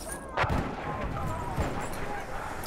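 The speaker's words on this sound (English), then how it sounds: "That's an anti-tank grenade." Anti-tank grenade blasts in a Battlefield 1 battle: two heavy explosive booms roughly a second apart over a continuous din of gunfire and battlefield noise, loud and close.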